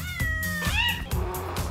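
A cat meows loudly and close, a drawn-out cry with a strained, yowling edge that rises and falls, followed by softer broken mewing sounds.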